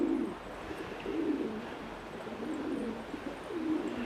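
Pigeons cooing close by in a coop with newly arrived birds, soft repeated low rolling coos in a steady rhythm over a faint background hiss.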